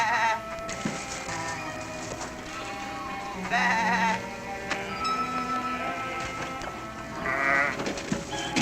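Sheep bleating over a busy, noisy background, several wavering calls at intervals, moderately loud.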